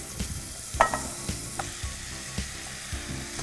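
Onion, pumpkin and carrot frying in a pan while being stirred, a soft steady sizzle broken by regular light clacks and scrapes of a spoon against the pan.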